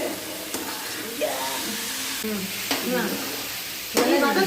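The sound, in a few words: sautéing food in a pan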